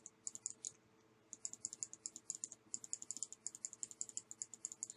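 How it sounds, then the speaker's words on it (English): A computer mouse is clicked rapidly while someone plays a video game, giving quick bursts of crisp, close-up clicks, briefly pausing and then resuming in a fast, uneven rhythm over a low background hum. "You hear me clicking the heck out of my mouse, I'm sure."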